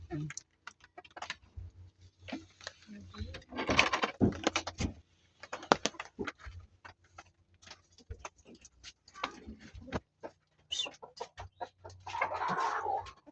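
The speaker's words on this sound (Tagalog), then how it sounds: "kuhanin naman natin yung isang inahin ko po na si Tilaok" A hen clucks on and off amid clattering, scratching and rustling noises close by, with short bursts of activity scattered throughout.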